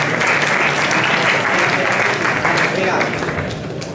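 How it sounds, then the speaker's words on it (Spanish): Applause from a lecture audience during a physical education talk, steady dense clapping filling the room for nearly four seconds before easing slightly at the end, with a little voice mixed in. "Si vamos aplaudiendo, a lo mejor la gente se va a animar."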